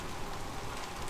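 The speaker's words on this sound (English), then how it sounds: "It's raining." Steady rain pattering down on surfaces, a dense even hiss with no breaks, moderately loud and close, no voices.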